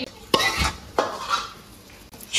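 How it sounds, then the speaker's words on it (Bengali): Mustard hilsa fish cooking in a pan, with a spoon scraping and clinking against the metal in a few distinct strokes over a soft sizzle, close by with no talk. "সরিষা ইলিশ রান্না করছি"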